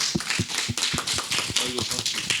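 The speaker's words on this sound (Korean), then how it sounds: "그래서 박수로 마치도록 하겠습니다" An audience claps to close a Korean book-talk forum on democracy and citizens' assemblies, a short burst of hand claps, close and fairly loud, with a voice speaking briefly over it.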